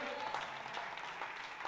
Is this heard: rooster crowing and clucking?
no